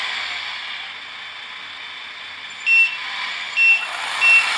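A Tamiya 1/14 Volvo FH16 RC tow truck sounds three evenly spaced electronic reversing beeps over a steady hiss of motor whine, close and clear.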